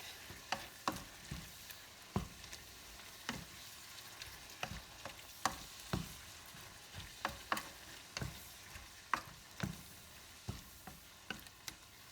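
Cooked shrimp tossed into a sizzling sesame ginger stir fry, with a soft background sizzle broken by repeated sharp clinks and scrapes of a utensil against the pan at an uneven pace, fairly quiet and close, no voices.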